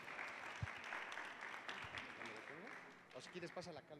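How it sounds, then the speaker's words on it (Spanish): Light applause from a small group for a participant in a religious study class, a soft patter of clapping that fades as a voice begins speaking near the end. "A ver, Lupita, un aplauso,"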